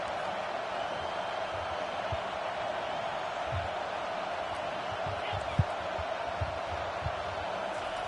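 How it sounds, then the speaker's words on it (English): A football stadium crowd on a defensive third down makes a steady, dense roar, with a few scattered thumps and claps rising out of the wash. "Decibels rising as the crowd gets behind this defense on 3rd down."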